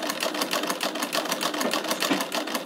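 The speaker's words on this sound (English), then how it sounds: "So, now we'll just treadle it." A treadle sewing machine fitted with a new belt runs close by with a rapid, steady clatter of needle and mechanism, fairly loud and even throughout, with no talking.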